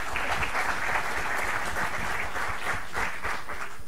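Seminar audience in a lecture hall applauding after a talk, a steady, moderately loud patter of many hands clapping for several seconds.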